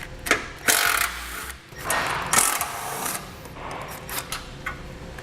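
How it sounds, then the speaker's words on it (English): A 13mm socket loosens the top subframe bolts on a vehicle during a base plate installation, giving a series of short, sharp mechanical ratcheting bursts, close and moderately loud, with brief pauses between them. "We'll now remove the top 2 bolts that connect our subframe to the frame. Use a 13mm socket to do this."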